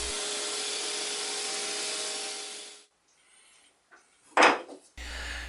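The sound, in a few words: sanding wood clock pieces with fine grit sandpaper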